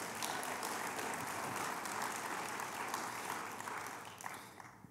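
A church congregation applauds steadily for about five seconds, a dense, even wash of clapping that thins slightly toward the end.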